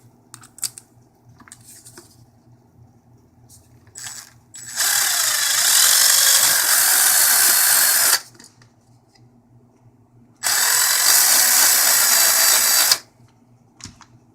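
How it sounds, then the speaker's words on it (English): A power drill bores a hole in two loud, sustained whirring bursts of about three seconds each, close up, separated by quiet handling clicks. "which we can take the drill"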